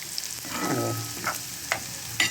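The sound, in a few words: pakoda batter frying in oil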